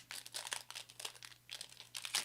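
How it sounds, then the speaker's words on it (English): Trading card packs for an NFL card break are torn open, giving a run of close crinkling and ripping foil wrapper sounds with short bursts and a sharper tear near the end, with no talk. "I'm gonna rip all of the packs."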